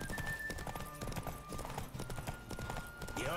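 Hooves of a galloping horse in The Witcher 3 pound in a rapid, continuous rhythm, loud and close, with game ambience and a tonal hum underneath.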